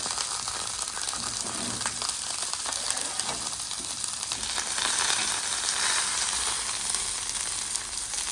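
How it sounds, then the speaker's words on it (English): Chuck eye beef steaks frying in their own rendered fat with no oil, a continuous close crackling sizzle that holds steady throughout. "as those chuck eyes cook, that beef fat's rendering out"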